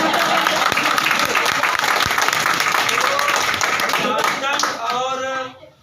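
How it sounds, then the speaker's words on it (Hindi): A lecture audience claps loudly and continuously in dense applause. Near the end the clapping thins out and a voice begins to speak over it. "ताली बजाओ।"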